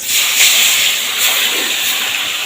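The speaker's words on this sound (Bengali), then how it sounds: "এবার আমি মাছগুলো অল্প অল্প করে ভেজে নেব" Pieces of fish frying in well-heated oil for a Bengali fish curry, a loud, close, continuous sizzling hiss that swells and eases slightly.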